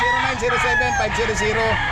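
Roosters crow and cluck at an outdoor pet market in the Sweater Dome Grotto area, loud and close, with repeated overlapping calls.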